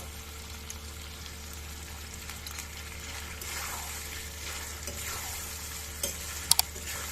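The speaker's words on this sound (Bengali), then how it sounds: "পেঁয়াজটা দিয়ে হালকা নাড়াচড়া করে নিয়েছি" Onions sizzle and fry in a pan for a chicken liver dish while being stirred, giving a steady, fairly faint hiss with soft swishing strokes and a couple of small clinks near the end, without talk.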